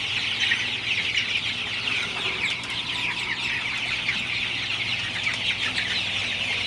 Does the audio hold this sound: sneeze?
no